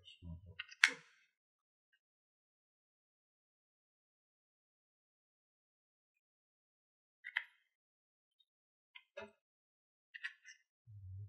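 A lithium-ion battery pack being pressed into a Baofeng UV5RT-UU handheld radio gives a few sharp, dry plastic clicks, spaced out and close, with brief speech at the start and end.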